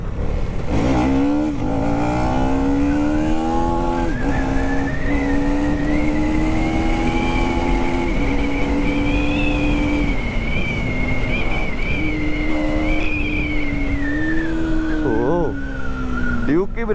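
A KTM Duke 250 Gen 3 motorcycle accelerating hard, its engine note climbing steadily through the revs with a brief dip at a gear change, loud and close throughout.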